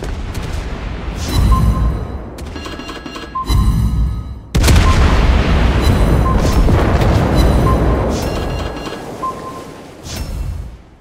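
Torpedo explosions in a naval video game featuring a Clemson destroyer, heavy booming blasts that come in loud, rumbling waves, one after another with almost no gap, and a big hit near the middle.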